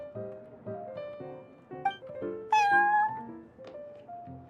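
A cartoonish cat meows repeatedly in Genshin Impact, a string of short tonal mews with one louder, higher, drawn-out meow near the middle, set over soft melodic game music.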